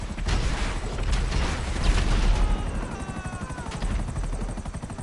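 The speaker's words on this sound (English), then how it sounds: "I got cops shooting at my drone." A drone hovers with a steady buzzing drone in GTA V Online while police gunfire crackles rapidly around it, dense and loud, with a rising whine partway through.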